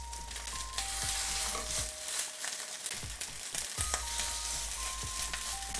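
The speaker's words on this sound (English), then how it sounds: "You can hear a nice good sizzle." A burger patty sizzles in a heated skillet with a dense, crackling fry that stays loud and close throughout, with no one speaking over it.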